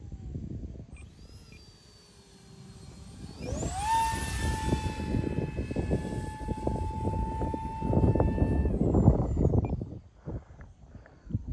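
A model MiG-17 jet's engine whine rises to a loud, steady high-pitched roar as it passes overhead, then fades away with wind noise.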